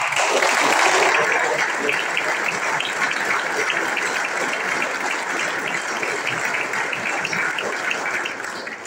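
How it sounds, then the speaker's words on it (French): An audience at a speech by François Legault at Rio Tinto's Isle-Maligne plant applauds the company, a loud, sustained roar of many clapping hands that holds steady for nearly nine seconds and eases off at the end. "Je voudrais qu'on les applaudisse"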